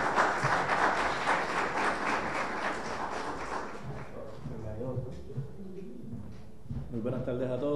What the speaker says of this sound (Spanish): Un aplauso para José Luis Ayala.